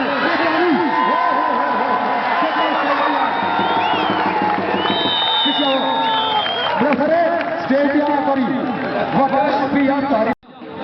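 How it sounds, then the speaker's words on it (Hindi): Crowd at an All Pakistan Big Open kabaddi match cheering and clapping, a dense, steady roar with whoops that continues throughout under a loud announcer's voice and ends in a brief drop. "एक बड़ी ताली मारो"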